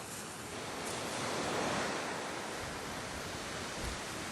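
Surf washes steadily onto a beach in the Algarve, a broad, constant roar of breaking waves with some wind, no voices.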